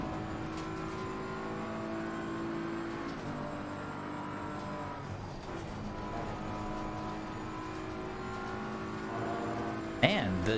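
A BMW driven hard in third gear, its engine a sustained tonal drone that shifts pitch as the revs rise and fall, heard from inside the car with a sharp knock near the end.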